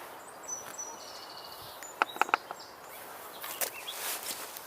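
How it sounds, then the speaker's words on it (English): A catbird calls from cover in spring woodland, with faint short chirps and a quick cluster of clicky notes over quiet background, plus occasional rustling steps nearby. "it sounds like there's a catbird in there."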